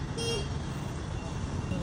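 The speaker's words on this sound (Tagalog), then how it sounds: "itong horn na to. At yun, makikita mo, tumutunog siya." A short, thin horn toot from a rental scooter in Taiwan rings out briefly over a steady traffic hum, with a faint voice nearby.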